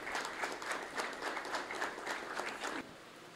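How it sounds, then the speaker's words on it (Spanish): Tribute applause from an association assembly audience in memory of a deceased member, a sustained pulsing patter of many clapping hands that thins out near the end. "Que se sienta al cielo ese aplauso."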